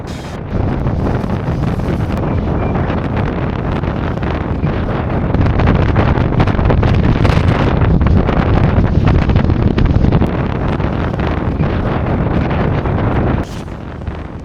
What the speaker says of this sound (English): man, the wind, no one likes the wind